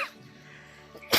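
A single sharp cough bursts out at the end, loud and close, after a quiet stretch of faint background noise.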